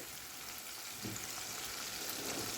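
Mutton browns in a pot for degi yakhni pulao, giving a steady, even sizzle and frying hiss that stays at one level throughout, with no voices.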